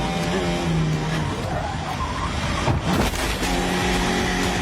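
Kevin Magnussen's Renault Formula 1 car strikes a barrier rear-first and spins around during a race, a loud broadband crash and scraping rush with engine tones in the background.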